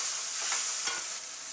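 Onion, garlic, masala and turmeric are sautéed in a pan for a Maharashtrian brinjal bhaji. A brief, dense frying hiss is heard alone with faint stirring, steady and close.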